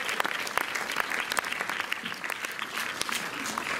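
Audience applause fills a cinema hall at a post-film debate as a guest speaker from the École des hautes études en sciences sociales is welcomed, with dense steady clapping and a few sharper claps standing out throughout.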